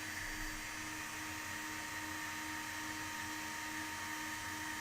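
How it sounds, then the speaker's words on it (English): The small built-in blower fan of a Tantour radio frequency face contouring device runs as a steady, faint whirring hiss with a constant tonal hum, unbroken and close, with no talking. "It has like a blower in it because it gets hot."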